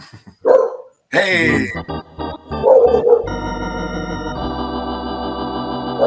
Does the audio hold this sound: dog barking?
yes